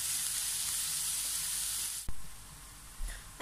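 Pork browns in a pan with a loud, steady sizzle. Partway through, a sharp clatter cuts in and the frying drops quieter, followed by a few softer knocks of stirring.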